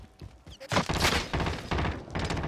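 Rapid bursts of gunfire in Call of Duty: Modern Warfare strike the player, loud and close, a dense run of cracks and impacts.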